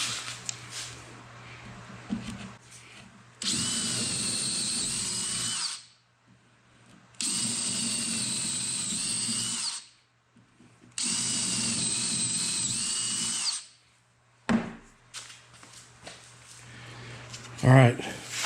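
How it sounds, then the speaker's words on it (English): A power drill whirs loudly in three long bursts separated by pauses, boring through a wood board for a Bora Portamate PM-1100 mobile base kit, with brief handling noises and faint talk between runs. "I'll just use the first board as a template to drill out the second board"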